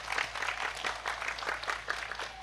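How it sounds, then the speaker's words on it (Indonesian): A large crowd claps together at an open-air Islamic sermon (ceramah) in Subang, a dense, steady patter of many hands that sounds somewhat distant and fairly soft throughout. "Tepuk tangan untuk teman-teman kita Korea."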